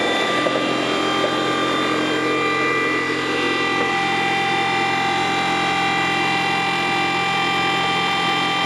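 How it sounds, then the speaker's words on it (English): Hydraulic pumps whine steadily on an electric John Deere 316 garden tractor with no gasoline engine, a loud continuous mechanical hum with layered tonal whirring that starts up and runs evenly throughout. "Surprising how noisy these hydraulic pumps are when there's no gasoline engine."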